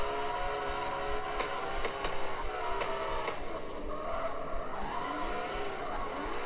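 A car drifting in the mobile racing game CarX Street, heard as a continuous engine drone with shifting pitch and tire squeal, steady and fairly loud, with no talking.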